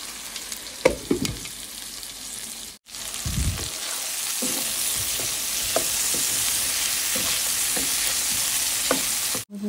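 Papaya pieces fry with chicken in a pan, giving a steady close sizzle. Occasional stirring knocks and scrapes sound over it, with a brief dip at one point and no talk.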